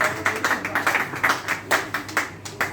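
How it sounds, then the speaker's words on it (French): Applause from an audience at a health product presentation, with distinct individual claps landing in a loose, uneven rhythm, fairly sparse and close, and no speech over them. "Applaudissez pour vous-même. Applaudissez pour Phytoscience."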